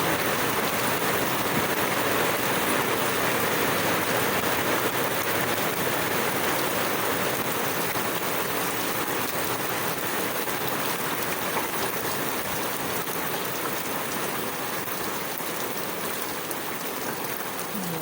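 Steady rain pours down in a broad, even hiss of drops striking surfaces, continuous and close for the whole stretch without letup.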